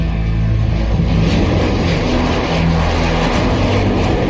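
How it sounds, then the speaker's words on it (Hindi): Tejas, an Indian-built light fighter jet, flying over the Republic Day parade on Rajpath, a loud continuous engine roar that holds steady throughout with no voices. "तेजस स्वदेशी लड़ाकू विमान है, पहली बार राजपथ पर 26 जनवरी की परेड में अपने पराक्रम की पटकथा लिख"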